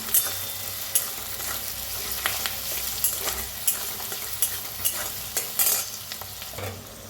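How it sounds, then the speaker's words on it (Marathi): Onions sizzle and fry in a pan while a spoon stirs them, scraping sharply every second or so over a constant crackling bed, close and clear with no talk. "छान लाल होईस्तोवर भाजून घेऊया कांदा"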